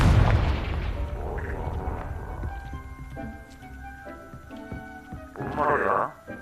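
A Confringo fire spell explodes in the Hogwarts Legacy video game. A heavy boom at the start fades into clanking game effects, then a second burst swells near the end, with voices talking throughout.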